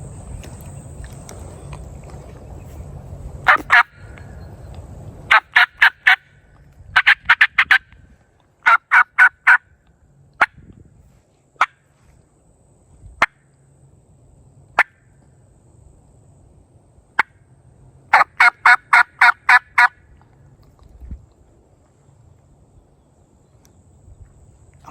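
A diaphragm turkey call blown by mouth imitates a tom's gobble, several rapid rattling gobble bursts with short single yelps between them, close and loud over faint outdoor background.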